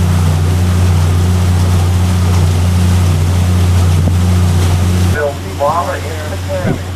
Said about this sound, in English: Boy, you can hear the wind blow.